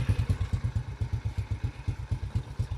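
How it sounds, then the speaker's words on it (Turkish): A vehicle engine running just after being started, with a steady, rapid throbbing idle of evenly spaced low pulses, close and alone. "Evet şu an araç çalıştı."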